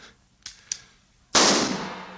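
A rifle is fired once in an old western battle scene, a loud sharp blast with a long rolling tail, preceded by two fainter distant cracks of gunfire.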